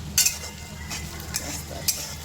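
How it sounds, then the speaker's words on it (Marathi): Onions frying in a pan at home, a steady low sizzle with a few sharp scraping stir strokes from a utensil, close and moderately loud, no voices. "ते कांदे पण तळायला ठेवले"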